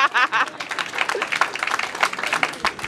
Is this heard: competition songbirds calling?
no